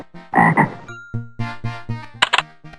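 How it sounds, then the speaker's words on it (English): Frog croaking from the MS-DOS game Kids Zoo: A Baby Animal Adventure on a Packard Bell computer: a run of loud, close, throaty croaks in an uneven rhythm, heard alone with no talk. "A frog goes."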